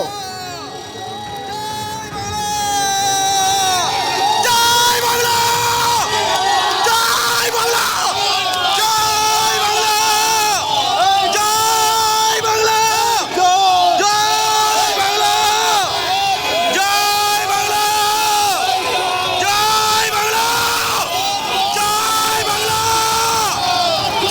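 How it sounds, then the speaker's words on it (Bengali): Crowd shouting and chanting slogans during a scuffle between Trinamool and BJP supporters as Suvendu Adhikari's convoy arrives at Chandrakona Road; a loud, continuous mass of overlapping voices and yells persists throughout. "চলে সেখানে স্লোগান যুদ্ধ"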